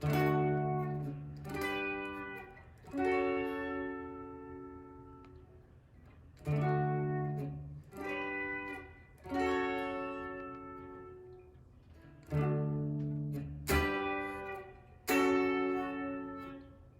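A guitar plays a slow progression of ringing chords, each struck and left to sustain and fade before the next.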